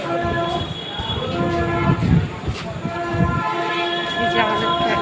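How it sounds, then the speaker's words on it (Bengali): A train rumbles at a railway station with steady mechanical drone, tonal hums and clatter, loud and close, with voices from the crowd faintly mixed in. "এই যে আমাদের ট্রেন।"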